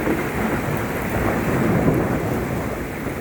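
Unseasonal thunderstorm over Vadod village near Jasdan, with continuous heavy rain and deep rolling thunder forming a dense, loud wash that swells slightly mid-clip, with no voices.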